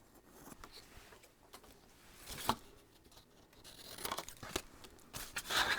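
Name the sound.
scissors cutting angled corners in paper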